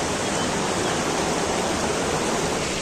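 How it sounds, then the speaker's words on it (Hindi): Water from the Aripal Naag spring in Pulwama rushes steadily and loudly close by, a dense, unbroken flowing roar with no voices over it. "इसी के नीचे से आ रहा है ये पानी"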